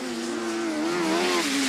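Autograss race cars charging around a track during a heat, one engine's wavering whine rising and falling loudly over a broad roar of other cars close by.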